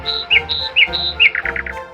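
A small bird chirps in a repeating pattern of bright, high tweets, then a quick run of rapid squeaky calls at the end, close and clear with no talking.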